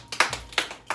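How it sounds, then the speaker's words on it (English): Three sharp hand claps in a quick, uneven rhythm, close and fairly loud, with quiet gaps between them and no voices. "So give yourself a round of applause."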